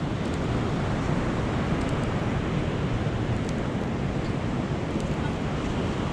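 Ocean surf at high tide on a New York City beach makes a loud, steady roar of broadband wash, heavy with wind rumble against the microphone, and no one speaks.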